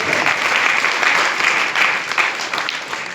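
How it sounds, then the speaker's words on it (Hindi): Audience at a network marketing meeting clapping in a loud, dense, continuous burst of many hands that holds steady throughout, with a few voices faintly mixed in. "ताली बजाएं"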